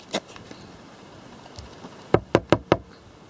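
A dried birdhouse gourd being knocked to shake the seeds out, giving four hollow, resonant knocks in quick succession after an earlier single tap and some faint rattling.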